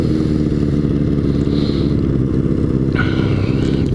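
A motorcycle engine idles steadily and loudly up close, a continuous low throbbing rumble with a slightly high idle, faint whistling tones above it and no talking.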